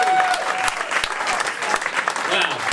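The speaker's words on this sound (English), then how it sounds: "Big round of applause again" Applause from an audience at a Burns Night music session after a Scottish song, a steady dense clatter of clapping with scattered louder claps and some cheering voices mixed in.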